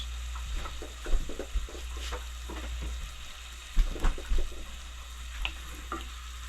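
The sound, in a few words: butter melting and sizzling with kale in a pan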